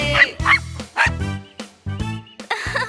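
A cartoon puppy barks in a series of short, bright, yappy woofs with squeaky whimper-like tones, loud and close, about five or six barks with brief pauses between.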